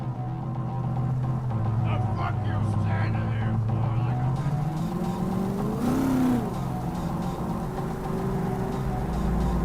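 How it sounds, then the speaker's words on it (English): A super-powered sports car in Cyberpunk 2077 drives with a steady engine drone that rises into a brief rev midway, set under ongoing game sounds and voices. "Jackie's car is a super-powered sports car running on Chew-2, the super fuel of the future."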